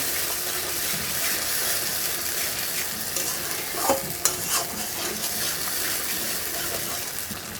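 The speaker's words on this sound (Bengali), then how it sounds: "এখন এটাকে খুব ভালো মতো কষিয়ে নিব আমি" Pointed gourd korma stir-fried in a pan, with a continuous sizzle and ongoing stirring plus a few brighter scraping or clinking touches near the middle.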